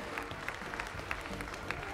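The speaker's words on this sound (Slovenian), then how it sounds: "In en aplavz." Distant applause from a crowd at a rock and roll dance competition final in Slovenia, a steady patter of many hands clapping, fairly faint and continuous throughout.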